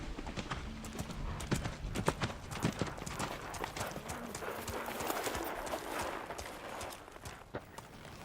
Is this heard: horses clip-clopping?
yes